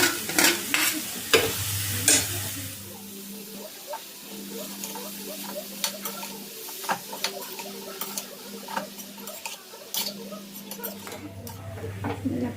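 Chopped palak spinach being stirred in a cooking pan for palak paruppu kootu, with steady scraping and patter of a spoon, soft sizzling underneath and a few sharper clicks; no talking.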